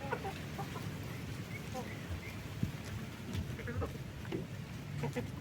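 Backyard chickens clucking and pecking while eating leftover watermelon rind, scattered soft clucks and peck taps over a busy outdoor background, with other farm animal calls faint behind.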